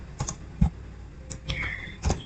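A computer keyboard typing a command in a Debian/Ubuntu terminal, a handful of separate, distinct key clicks spaced irregularly, close and fairly crisp in a quiet room.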